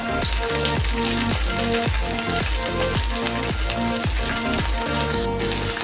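Ginger, garlic, green chilli and curry leaves sauté in hot oil for a raw mango curry, giving a steady, close sizzle that runs the whole time beneath rhythmic background music.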